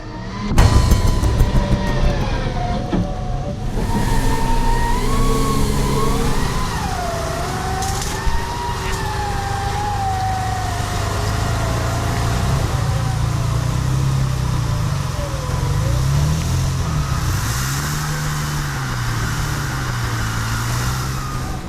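An expedition car stuck in a small river gully in the Meratus jungle revs its engine hard and continuously, a loud close roar wavering in pitch as it strains, with no speech.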